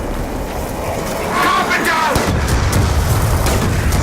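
Gunfire from a gun with heavy recoil in Black Ops 2 Zombies, loud booming bursts that swell midway and continue under a crowded game din.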